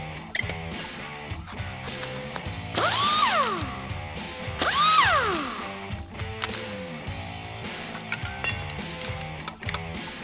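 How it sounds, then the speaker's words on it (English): Power tools whir and ratchet while pulleys come off a 1973 Pontiac 400 engine. Close, bursty mechanical clatter plays out with two sharp rising and falling spin-ups in the middle. "with the belts out of the way, we can remove the pulleys"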